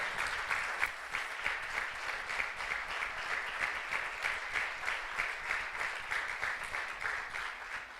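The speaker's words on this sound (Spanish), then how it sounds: "Dale un aplauso bien fuerte al Señor" A church congregation breaks into sustained, enthusiastic applause, a dense wash of many hands clapping continuously and evenly throughout.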